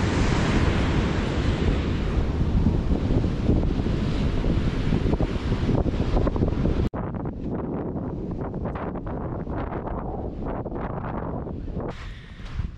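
Wind and ocean surf on a beach at Cape May, New Jersey, near a World War II bunker: heavy wind buffeting the microphone over a steady wash of waves, easing after a sudden cut midway, with no talk.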